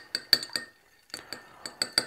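Spoon stirring flavour essence into simple syrup in a glass, light bright clinks in two quick clusters of about four taps each, close and clear with nothing else audible.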